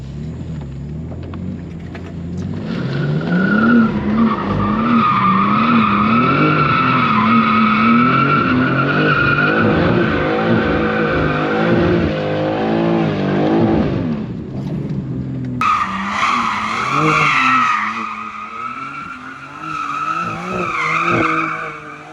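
A BMW M2 engine revs hard while tires squeal and skid in a loud, sustained burnout, with a sharper screech rising near the end.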